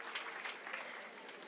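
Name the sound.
audience applause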